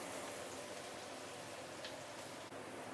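Curry leaves sizzle steadily while sautéing in a pan for a Malaysian curry, a dense, even crackle with no pauses that holds at a moderate level throughout.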